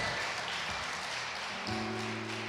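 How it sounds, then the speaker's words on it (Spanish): A church congregation claps together in a steady, fairly faint wash of applause, with a held musical tone joining partway through. "Denle ese aplauso al Señor"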